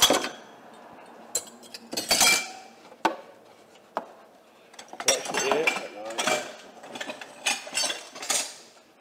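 Metal cutlery clinks and clatters in irregular bursts, close by, in an abandoned restaurant, with rustling and scraping between the sharp metallic hits.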